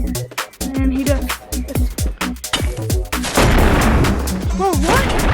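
Rapid gunfire and blasts from a video game arena battle in Meta VR, loud and dense with repeated bursts throughout, mixed with speech and shouting.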